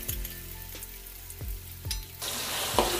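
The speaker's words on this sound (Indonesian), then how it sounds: "setelah minyaknya panas, kita masukkan bahan-bahan yang sudah kita blender tadi" Blended spice paste for Padang-style beef liver kalio is added to hot oil, and the sizzle swells loudly after a few clinks and taps from a utensil on the pan.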